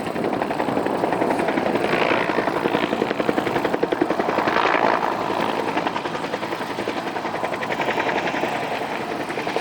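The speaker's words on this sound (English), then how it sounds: "the second Cobra rolls in, keeping the enemy pinned down with a never-ending stream of fire" A Cobra attack helicopter flies a display at an airshow, its loud, continuous rotor chop and turbine whine pulsing steadily and swelling slightly as it maneuvers nearby.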